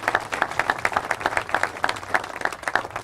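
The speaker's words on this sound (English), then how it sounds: "Let's give him a big round of applause for the way he's led this department." An audience at a groundbreaking ceremony for a public safety services campus claps for the police commissioner, giving steady, lively applause that carries on strongly throughout.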